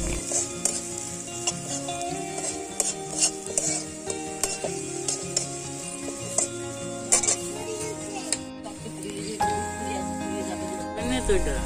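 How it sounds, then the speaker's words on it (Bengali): Onions frying in oil for a Bengali pabda fish curry, a steady sizzle with scraping stirs and light clinks of utensil on pan, continuous and close throughout. "এবারে তেলে আমি পেঁয়াজগুলো দিয়ে দিলাম এবং ভালো করে ভেজে নেব"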